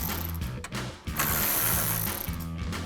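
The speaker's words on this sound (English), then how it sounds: "I'm going to take this nut off here" A hand ratchet fitted with a 13mm socket loosens a nut on a Silverado 1500 running-board install, giving quick repeated clicking strokes in short bursts with brief pauses, close and fairly quiet, with no talking.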